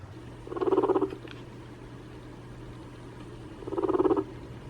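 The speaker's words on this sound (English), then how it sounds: "Number 8 is purring." A guinea pig gives two short bursts of soft, low vibrating purring, each about a second long, separated by quiet with a faint steady hum underneath.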